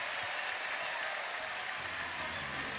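A basketball crowd applauds steadily during an Oregon vs Arizona game, a dense, even wash of clapping from a large arena audience.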